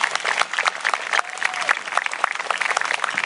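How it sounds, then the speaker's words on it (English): Audience clapping at an outdoor One World Day community gathering, lively and fairly close, with many individual claps standing out as they carry on without pause. "So if we can give him a round of applause."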